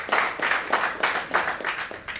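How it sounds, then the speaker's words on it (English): Audience applause in a hall, a steady wash of many hands clapping in pulsing waves, close and moderately loud with no talk over it. "I think you should clap for yourself first"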